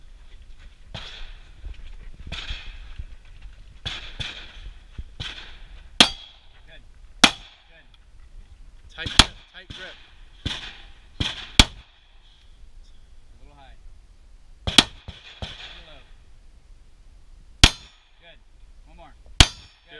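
Handgun shots ring out at an outdoor ranch gun match, several sharp, loud reports spaced irregularly apart, with a person giving instructions between them.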